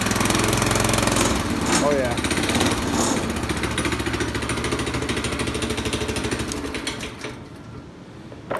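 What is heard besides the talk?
homemade Snow Mutt snow vehicle engine running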